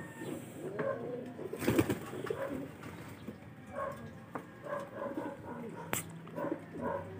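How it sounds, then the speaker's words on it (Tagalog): Racing pigeons cooing at a loft during a derby, soft repeated low coos amid speech-like voices and background chatter, with an occasional dog bark and a brief sharp knock near the end. "Ito mga kalapatids, oh."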